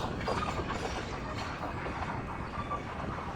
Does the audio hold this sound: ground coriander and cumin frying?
no